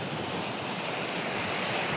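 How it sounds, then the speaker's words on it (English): A river wave in Cheddar, a village, rushes with a steady, full roar of churning water, continuous and close with no voices over it. "I've found a novelty river wave."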